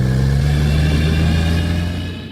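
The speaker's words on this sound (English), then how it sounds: "The ASE certified mechanics at A&B Automotive have the expertise to make your car sound like this." A car engine runs smoothly with a loud, steady, low hum in a radio advertisement for an auto repair shop, holding even for about two seconds before easing off at the end, with no voices over it.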